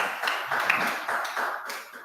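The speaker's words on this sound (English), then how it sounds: "I haven't heard applause in a very long time." A small church congregation claps in a short, uneven burst, a few separate hands audible at moderate distance and fairly quiet.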